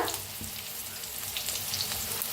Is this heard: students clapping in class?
no